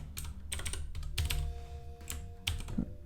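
Quick bursts of keystrokes on a computer keyboard, clustered taps with short pauses between them, close and clear with no talking.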